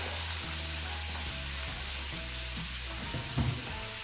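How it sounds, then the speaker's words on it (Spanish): Cabbage sizzling in a pan with garlic and onion, a steady broadband fry hiss with faint stirring clinks and a brief louder scrape near the end, no talk. "He vuelto a encender el fuego del ajo y la cebolla y la col para adentro."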